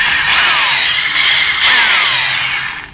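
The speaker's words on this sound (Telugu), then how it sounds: "స్మూత్గా తిరుగుతుంది కదా, నార్మల్ డ్రిల్ అనమాట" INGCO rotary hammer drill running in plain drill mode with hammering off, a loud, steady high whine that spins up and holds for about three seconds, close and alone.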